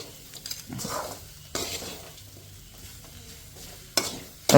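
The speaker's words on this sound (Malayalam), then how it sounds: "ചില്ലി ഫ്ലേക്സും കൂടെ ചേർത്ത് കൊടുത്ത് നന്നായിട്ടൊന്ന് ഇളക്കി മിക്സ് ചെയ്തെടുക്കുക" A spoon stirs chicken pieces with chilli flakes in a pan for a dry roast, making sparse scraping and clinking movements over a faint sizzle, with sharper knocks near the end.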